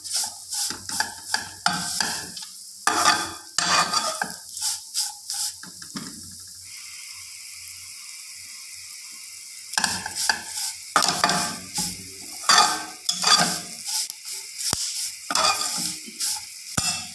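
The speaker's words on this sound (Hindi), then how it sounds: "बिल्कुल हल्की आंच पे 2 मिनट हम इन्हें भून लेंगे" Sheer khurma ingredients roasted in a pan over low heat, a spoon scraping and stirring in repeated bursts over a steady soft sizzle, with a quieter stretch of plain hiss midway.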